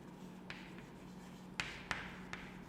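Faint chalk-like taps and strokes of writing on a board in a quiet lecture room, a few distinct knocks spaced unevenly.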